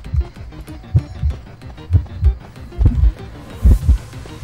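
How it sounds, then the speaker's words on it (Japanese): Heartbeat effect in the game Identity V: repeated low thumping pulses in a steady, close rhythm throughout, sometimes doubling into quick beats. "これ心音だけするね"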